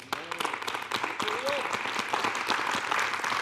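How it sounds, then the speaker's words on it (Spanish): A church congregation breaks into sustained applause during a sermon, dense clapping filling the room with a few voices and a brief whistle or cheer mixed in. "¿Podemos darle un aplauso a Él?"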